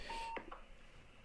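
A phone dialing: a brief steady tone, then a couple of short touch-tone beeps, close and quick, with no talking.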